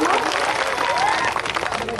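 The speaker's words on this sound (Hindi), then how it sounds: "एक बार जोरदार तालियों से मेरी हौसला अफजाई फरमा ले" Applause and crowd noise at a mushaira poetry gathering, a dense clapping wash mixed with voices and a brief vocal sound, loud and continuous before easing slightly near the end.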